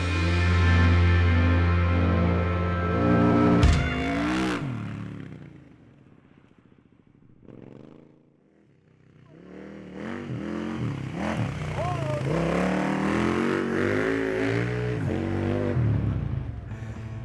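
A 2013 KTM 990 Adventure motorcycle engine revs loudly up close, falls to a quieter stretch, then picks up again with rising and falling throttle over a rally course, with someone talking over it.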